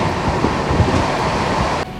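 Himgiri Express on the Howrah to Jammu Tawi run, heard as a loud, continuous rumble and rattle of a moving train in rain, steady throughout before dropping off sharply just before the end.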